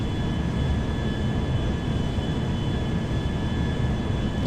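An Airbus A350 mod jetliner on short final approach in GTA 5 gives off a steady, loud engine roar with a constant whine, unbroken and close, with no voices.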